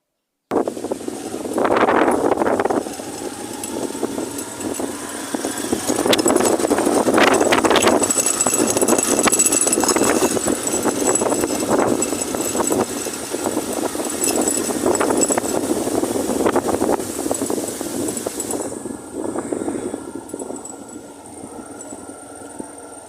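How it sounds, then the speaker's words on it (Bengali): A fierce storm wind roars loudly and continuously against a moving vehicle, gusting in waves for about twenty seconds before easing near the end. "আশা করি বুঝতে পারছেন কি পরিমাণে ভয়ানক বাতাস ছিল"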